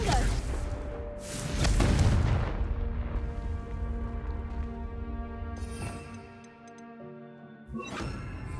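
A Confringo blasting spell in Hogwarts Legacy bursts with a loud, booming explosion followed by crackling debris and a ringing tonal tail, with another sharp burst near the end.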